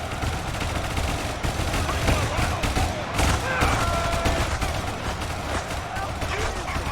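Dense, continuous machine gun fire and scattered gunshots from a large battle in Ultimate Epic Battle Simulator, with a steady roar of volleys and crackle throughout and no clear voice over it.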